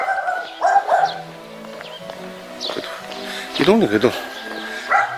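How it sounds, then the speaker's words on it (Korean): Dogs in a rural Korean mountain village bark in short, sharp bursts, several yaps close by, while someone talks over and between them. "개들이 덜 짖는 편인데."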